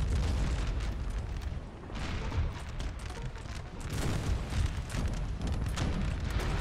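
Howitzer artillery explosions in the Napoleon Total War battle game, a dense barrage of loud booms and crackling bursts rumbling continuously with a brief lull partway through.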